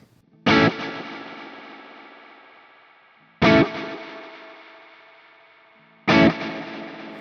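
Strymon Volante tape delay pedal with low cut on the repeats: three strong struck chords or notes, each followed by a long smeared, fading echo trail, played alone with no talk.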